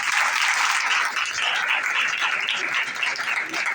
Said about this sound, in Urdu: آئیے اس بادشاہ کے لیے زوردار تالیاں بجائیں